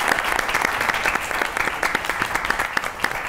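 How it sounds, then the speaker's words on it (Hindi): Studio audience applause on a Pakistani comedy talk show, a steady dense burst of clapping that fills the whole stretch without a break. "ताली होनी चाहिए शामिल के लिए।"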